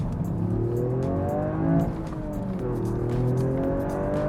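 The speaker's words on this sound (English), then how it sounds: "It's got a Miltech exhaust on it, so it sounds mildly better." A Toyota GR Yaris engine with an aftermarket Milltek exhaust drones and revs with a throaty, rumbling exhaust note, rising and falling steadily over several seconds, close by.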